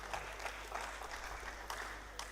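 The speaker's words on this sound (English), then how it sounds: "Please, a round of applause for him." Steady applause from a conference audience at a renewable energy event, a dense wash of many hands clapping at moderate distance over a low background hum.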